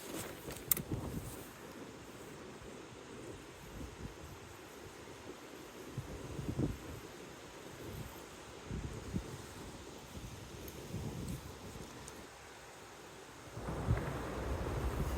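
Wind blows outdoors at a fishing spot, a low steady rumbling wash with occasional gusts and a stronger surge near the end, no talking.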